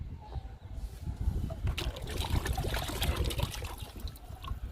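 Liquid fertilizer being poured onto a large potted plant full of flowers, a steady close trickle and splash running continuously at moderate level, with no talking.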